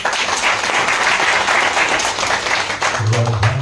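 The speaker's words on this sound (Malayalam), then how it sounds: "ഒരു നല്ല കൈയടി." Audience applause at a film poster, song and trailer release event in Thiruvananthapuram, loud continuous clapping from a crowd, with a voice rising briefly near the end.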